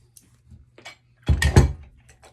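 A rivet being set on a sewn mini crossbody bag: a few faint clicks and handling noises, then a cluster of firm close mechanical snaps and clunks, followed by quiet rustling.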